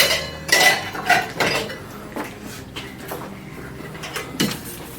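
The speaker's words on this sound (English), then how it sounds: "we'll get a pan and cook the egg" Toy pan and play dishes clatter as a pretend egg is cooked for a make-believe turkey meal, giving a few sharp close clinks and knocks in uneven bursts.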